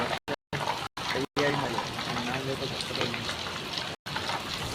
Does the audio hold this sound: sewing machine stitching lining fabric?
no